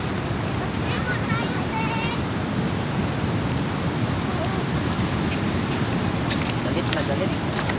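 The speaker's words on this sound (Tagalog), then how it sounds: "Lalaki ng alon" Big ocean waves at sea heard from a small fishing boat, a steady loud roar of rushing water and wind with a voice briefly calling out over it.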